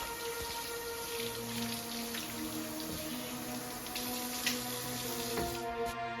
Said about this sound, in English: We'll first wash our hands because cleanliness is key.